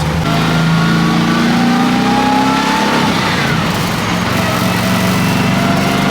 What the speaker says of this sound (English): Super T10 4-speed, 406 small block Chevrolet under the hood.